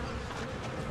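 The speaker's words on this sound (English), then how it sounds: "Yeah, we've got bees. The bees are back." Bees buzzing in a steady, close drone, a short continuous hum with no voices.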